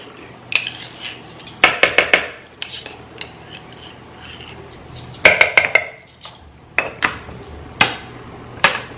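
Dry ingredients, including dry mustard, being spooned into a bowl, heard as a series of sharp metallic clinks and taps of a spoon against the dish, arriving in short clustered bursts with quiet gaps between.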